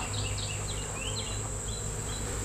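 Honey bees buzzing around an open hive after the honey harvest, a steady close drone with a few faint higher chirps over it.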